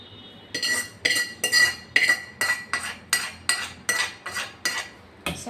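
Spiced tempering being stirred into peanut chutney, with a spoon scraping the bowl in about ten regular, close strokes, each a bright metallic clink and scrape.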